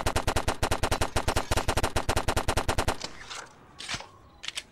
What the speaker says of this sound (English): The first gun is the Uzi. It has a good fire rate and reload time.